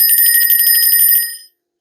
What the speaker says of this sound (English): they want you to take the bell off and then hold the bell